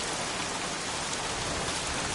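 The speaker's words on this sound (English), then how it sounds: "won't this rain ever let up?" Heavy rain pours down steadily at a scrapyard in a video game, a dense, even hiss with no pauses and no voices.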